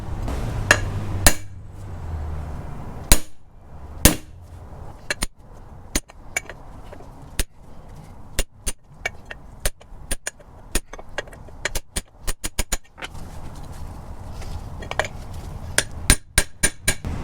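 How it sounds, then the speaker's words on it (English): Brass hammer driving a bearing race with a press sleeve on a 1st-gen Toyota 4Runner solid front axle, sharp metallic strikes spaced irregularly, then coming in quicker clustered bursts, close and loud in a quiet shop. "now I could just take my brass hammer and I can drive to where I drive this fully seated"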